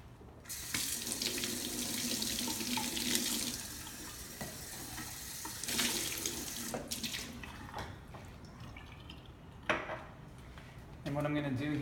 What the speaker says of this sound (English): I'm going to rinse this out